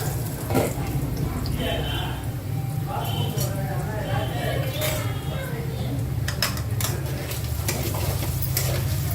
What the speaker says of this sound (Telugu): అడుగంటకుండా నీట్గా ఫ్రైని కలబెట్టుకోవాలండి